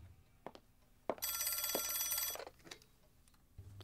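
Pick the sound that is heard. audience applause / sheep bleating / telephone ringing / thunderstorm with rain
telephone ringing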